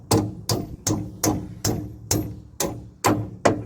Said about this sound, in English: a few small taps with a hammer